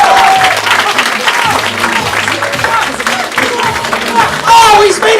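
Audience applause and clapping after a stage performance, a loud continuous crowd of hands clapping close by, with some voices and whoops mixed in and a swell near the end.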